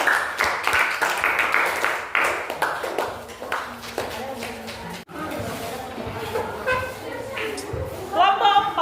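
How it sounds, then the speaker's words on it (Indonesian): Classroom of seventh-grade students clapping for a presenting group, a dense patter of hand claps running through most of the stretch with chatter and a teacher's voice mixed in. "Tepuk tangan dulu buat kelompok 3"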